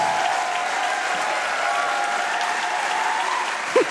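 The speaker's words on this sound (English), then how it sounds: "Loving the hype from the crowd on that one." Crowd applause at Summer Games Done Quick 2023 after an Elden Ring speedrun finish, a steady dense wash of clapping and cheering filling the whole stretch at close, loud level, with a couple of brief louder whoops near the end.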